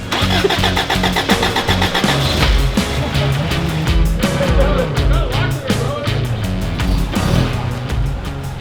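A vintage Toyota truck cranks and runs during a test drive, its mid-range engine idling and revving with rattling mechanical noise while people talk over it.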